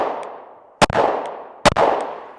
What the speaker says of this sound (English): I'm gonna start to put pressure, break a shot.